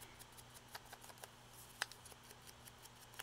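Scissors snip through paper for a handmade craft book in a quiet room, a steady run of small crisp clicks and cuts, close and faint, with one sharper snip midway.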